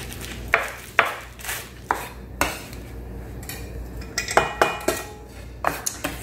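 Spoon knocking and scraping against a bowl while mixing farmer's cheese with herbs and green onion, a series of close, sharp taps at an uneven pace over a quiet background, no talk.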